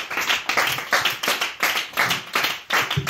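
A worship congregation claps in steady rhythm to acclaim Jesus, about seven firm collective claps over three seconds, loud and close, with no talking over them.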